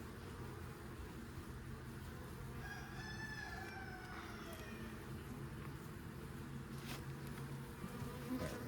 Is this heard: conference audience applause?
no